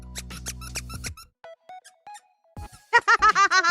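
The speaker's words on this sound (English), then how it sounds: "I didn't know it squeaked when I bought it." A squeaky Rice Shower character keychain toy is pressed to give a quick run of five or six bright, close squeaks, following softer handling noises and a short pause.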